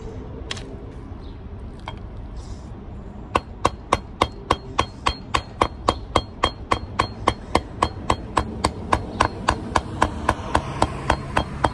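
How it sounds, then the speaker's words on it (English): Hammer banging steadily on a practice cape, striking along chalk lines in a workshop; sharp, evenly spaced metallic blows repeat at a quick rhythm, close and loud, after a quieter start. "So right now I'm just kind of banging"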